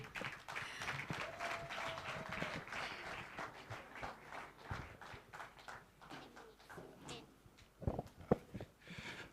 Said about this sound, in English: Please clap your hands as we welcome MC Youngji to the stage